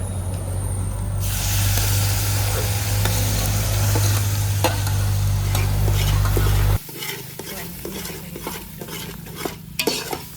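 Homemade red masala and a ground spice paste fry in hot oil with curry leaves, giving a loud steady sizzle under a low burner hum that cuts out partway, leaving softer crackling and a few spoon scrapes.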